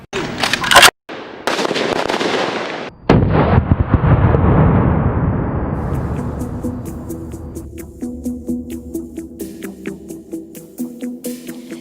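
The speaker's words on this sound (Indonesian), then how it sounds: "Yang bisa ditembakkan satu-satu, tembakan sekali tembak 1 butir, bisa tembakan otomatis." Loud bursts of rapid automatic gunfire at police academy training, rattling in long strings, then a quicker rhythmic patter of shots fading as it continues.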